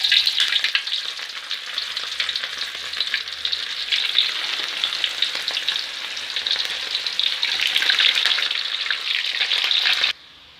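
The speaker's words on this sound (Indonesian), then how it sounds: "Kemudian kita goreng kentang yang sudah diiris-iris ya." Thinly sliced potatoes fry in hot oil with a loud, dense, continuous sizzle and crackle up close. It runs steadily for about ten seconds, then cuts off abruptly.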